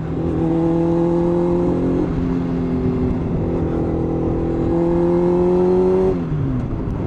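A racing vehicle's engine revs hard and climbs through gears, with steady rising pitch that drops at shifts and falls off near the end, loud and close with road roar beneath.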